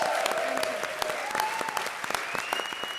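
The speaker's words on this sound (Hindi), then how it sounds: "जोरदार तालियां हो जाए राजीव और सुगंधा के लिए।" Studio audience at a televised comedy show claps loudly for Rajeev and Sugandha, a steady, dense wash of applause with a faint sustained musical tone running underneath.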